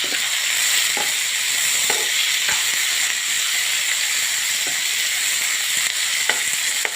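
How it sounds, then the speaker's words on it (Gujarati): Onion and tomato frying in a pan: a continuous bright sizzle and hiss with occasional sharp taps of a utensil against the pan, no talking. "ડુંગળી થોડી શેકા પછી ટામેટું નાખીશું આપણે."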